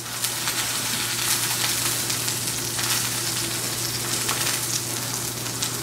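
Deer sausage frying in a pan, giving a steady, continuous sizzle with crackling pops throughout, close and fairly loud with no voices.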